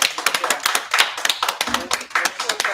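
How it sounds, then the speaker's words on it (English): A small group at a gathering claps, individual hand claps clearly separated in an uneven rhythm, close and fairly loud, with a voice briefly heard among them. "I want everyone to give a round of applause"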